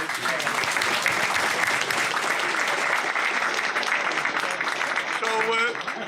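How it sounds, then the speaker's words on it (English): An audience at a political party event claps steadily in sustained applause for the speakers, dense and fairly close, with a brief voice near the end. "So a big round of applause for all our speakers."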